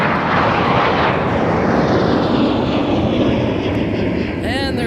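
An airliner roars loudly on takeoff at Minneapolis–St. Paul airport, a broad, sustained engine rumble filling the whole stretch and easing slightly near the end.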